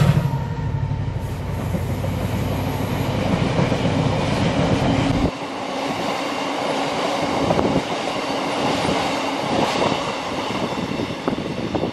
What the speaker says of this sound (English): a number of freight trains are being diverted onto the little-used section of line between Mauchline on the GSWR route and Ayr